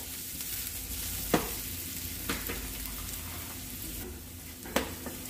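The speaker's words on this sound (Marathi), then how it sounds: "थोडंसं कांद्याला आपण गोल्डन ब्राऊन होऊन देऊया" Chopped onion fries in oil until golden brown, producing a constant soft sizzle with a few sharp scraping stirs at intervals, nearby and free of speech.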